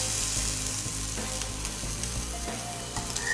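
A boneless ribeye steak sears in a hot pan with a loud, constant, crackling sizzle, overlaid by occasional sharp spits and light scrapes, and no voices.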